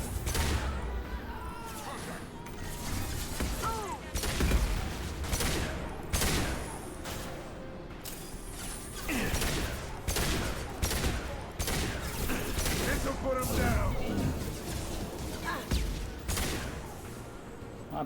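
Missiles and gunfire in the video game Mass Effect 2, a chaotic barrage of repeated blasts, explosions and bursts of shooting over about eighteen seconds, loud and dense with few pauses.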